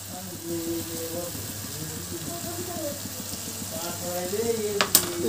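Chal kumro (ash gourd) ghonto with fish oil and spices being stirred in a pan, a steady soft sizzle with scraping strokes throughout, and a voice talking over it near the end.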